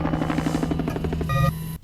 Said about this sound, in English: He thinks he's hearing helicopters.